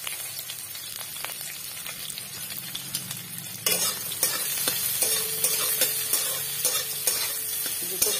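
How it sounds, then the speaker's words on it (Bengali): Chopped onions frying in hot oil with bay leaf and five-spice, a close sizzle that rises sharply partway through, with scraping stirs and light utensil clinks against the pan. "পেঁয়াজ দিয়ে ভালো করে ভেজে নেবো"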